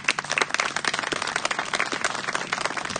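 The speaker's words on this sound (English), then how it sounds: "Please join me in giving a round of applause to our incredibly generous community donors." Round of applause for community donors at a high school graduation ceremony, a mid-sized crowd clapping steadily and fairly close, with no voices over it.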